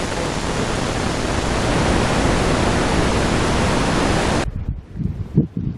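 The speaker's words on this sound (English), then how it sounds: "the wind's annoyingly picking up now" Wind roars in a steady, loud broadband rush at a portable radio operating spot outdoors by a creek, then cuts out abruptly, leaving faint rustles and bumps.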